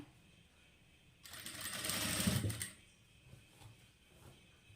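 Sewing machine stitching a short run along a blouse side seam, a quiet steady whirring burst of about a second and a half, framed by faint handling sounds.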